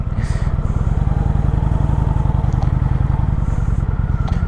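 A 2021 Kawasaki Vulcan 900 motorcycle pulling away, its engine a steady, close, low rhythmic thrum that holds fairly loud for the whole stretch.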